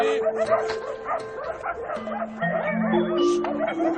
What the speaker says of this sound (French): les chiens défendent âprement leur territoire